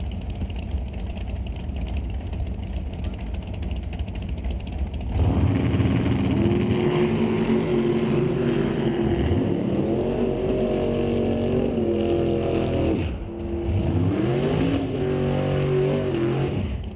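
Pontiac Firebird and Shelby Mustang launching side by side at a drag race, loud roaring engines rising sharply from a steady rumble and climbing through the gears, with a brief dip before revving hard again.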